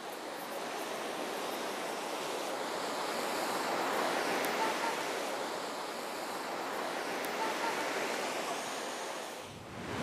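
Ocean waves on the Indian Ocean coast of Kenya roll in as a steady, broad surf wash with gentle swells in loudness, continuous throughout with no voices.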